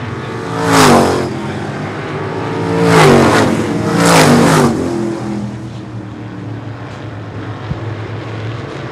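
Super Modified race cars roar past on a short oval track during a heat race, engines rising and fading in repeated loud passes with steady high-revving drone in between.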